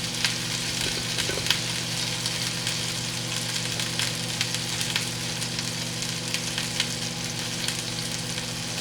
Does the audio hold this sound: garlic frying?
yes